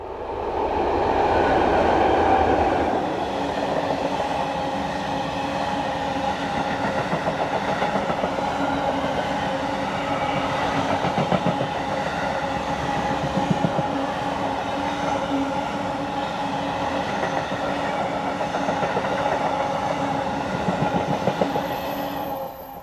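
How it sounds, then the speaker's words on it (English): Freight train of empty steel flats from Charleroi, hauled by locomotives 7821 and 7855, passing close by with a loud steady rumble and rhythmic wheel clatter for the whole stretch, and a brief high squeal near the end. "You get the occasional freight service along here."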